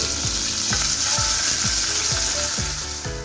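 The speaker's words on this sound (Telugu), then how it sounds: "ఫైనల్గా కరివేపాకు రెబ్బలు కూడా వేసుకొని బాగా ఫ్రై చేసుకోండి" Loud, crackling sizzle of curry leaves frying in hot oil for sambar tempering, with a steady rhythm of scraping stirs repeating about every half second.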